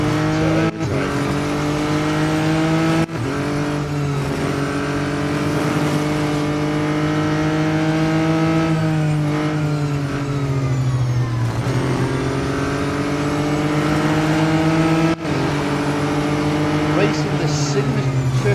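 Racing car engines in the mobile game Real Racing 3 drone loudly and continuously, rising in pitch and dropping sharply at gear shifts, with a brief tyre squeal.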